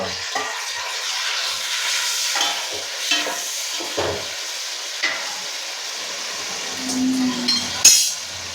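Tomatoes and chillies fry in a pan for a dried-anchovy curry, making a moderate sizzle broken by repeated spatula scrapes and knocks, with a sharp clatter near the end and no speech.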